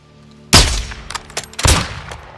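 Gunshots in Call of Duty Modern Warfare II: two sharp, loud reports about a second apart, each followed by echoing rattle and decay, with no talking.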